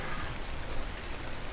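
Steady rain pours down in the game Ark: Survival Ascended, a dense, even hiss of drops hitting surfaces with no voices.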